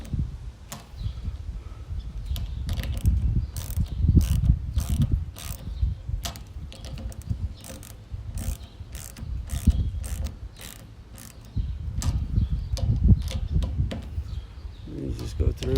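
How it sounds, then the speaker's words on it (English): A hand ratchet tightens bolts on a 10x20x7 plastic greenhouse kit, giving repeated quick clicking bursts up close, with pauses between bolts and background rustle throughout. "I actually use a ratchet on these"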